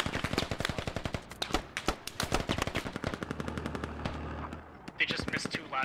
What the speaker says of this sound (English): More mortars coming in.